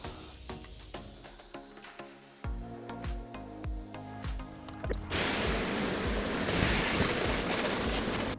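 A pressure washer rinsing snow foam off a first-generation Audi TT with a soft top begins partway through as a loud, steady hissing spray, following a stretch of clatter and thumps.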